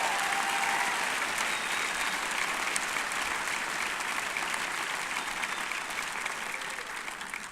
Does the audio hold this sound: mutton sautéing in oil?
no